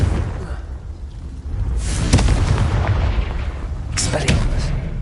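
Repeated Confringo blast spells explode in Hogwarts Legacy, sharp bursts landing around two and four seconds over a loud, continuous rumbling battle bed, with a voice shouting over the action.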